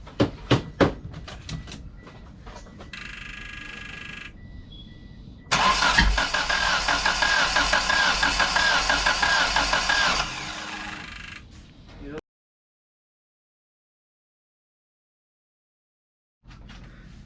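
A DSM car with a freshly redone head gasket and intake manifold cranks over several times, then catches and runs at a loud, steady idle for a few seconds before cutting off into silence, with some voices mixed in.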